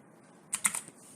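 A short burst of computer keyboard keystrokes, a few quick clicks close by during 3D modelling work, with quiet room tone before and after.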